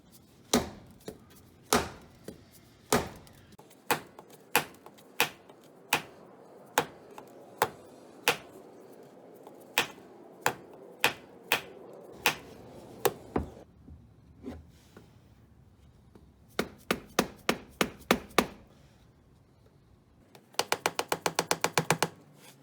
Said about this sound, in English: I'm gonna try using a dead blow hammer and see if I can break the gasket loose.